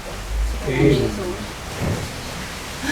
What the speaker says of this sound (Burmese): မိုးရွာနေကြတယ်